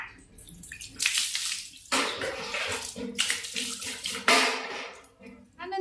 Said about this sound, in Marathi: मी अगोदर कोमट पाण्याने ओले करून घेते आपलं स्कॅल्प वगैरे